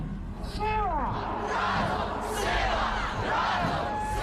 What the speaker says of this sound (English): simple but effective tools like catchy sing-alongs and chanting are employed